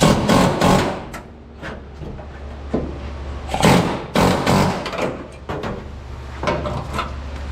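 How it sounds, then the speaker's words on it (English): Pneumatic air chisel works on a 1969 Chevy C-50 truck in a shop, firing in loud, rattling bursts separated by short pauses, with a low steady hum running beneath. "now I need to air chisel"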